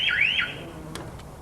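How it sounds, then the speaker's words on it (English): A 1990 car's security alarm sounds, a loud warbling electronic siren sweeping up and down for under half a second, then cutting out, with faint clicks after. "the alarm is instantly set off"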